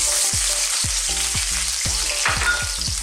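Garlic, ginger and chilli sizzle in hot oil in a wok, a constant close frying hiss broken by a series of sharp metallic clanks and scrapes from stirring.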